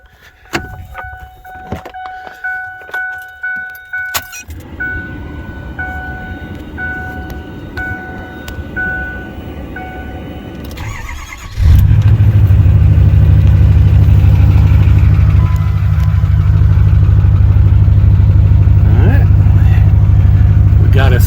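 A 2008 Ford F-350 with the 6.4 diesel cranks after a series of dash chimes and clicks, then catches and settles into a loud, steady rumbling idle, with a person talking during the start.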